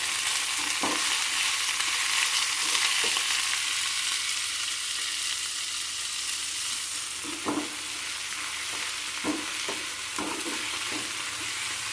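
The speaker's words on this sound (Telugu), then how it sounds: "అడుగు మాడకుండా వీటిని వేపుకోవాలి ఇలాగా" Cluster beans (goruchikkudu) frying in a pan while being stirred, a steady sizzle broken by periodic scraping knocks of a spatula against the pan.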